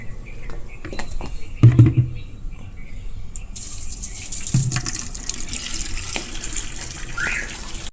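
Water gushes and splashes while a small taxi car is washed, with uneven bursts and knocks early on, then a continuous hissing spray through the rest.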